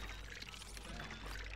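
Water pours in the Dome Keeper video game, a steady continuous wash of sound lasting the whole moment, fairly faint and alone with no talking.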